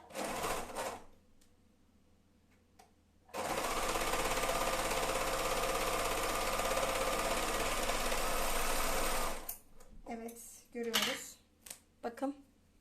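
An overlock sewing machine stitches fabric in one loud, steady run of about six seconds, with shorter, quieter mechanical bursts of sewing before and after it.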